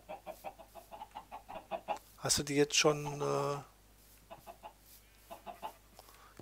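Minecraft chickens clucking in short repeated bursts, with a louder squawking burst in the middle, under casual conversation between players.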